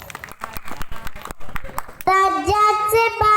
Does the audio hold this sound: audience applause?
yes